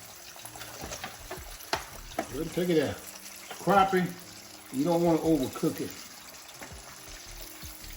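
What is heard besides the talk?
crappie fish fillets frying and bubbling in hot oil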